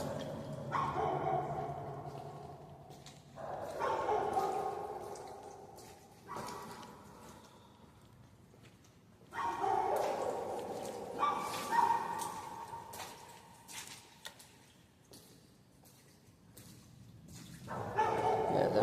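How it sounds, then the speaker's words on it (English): Several dogs barking repeatedly from some distance, heard from inside an underground culvert, with bursts of barks and yips separated by quieter echoing pauses. "Yeah, they're still barking"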